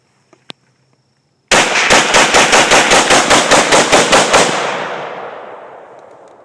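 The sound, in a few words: Steyr AUG A3 rifle rapid fire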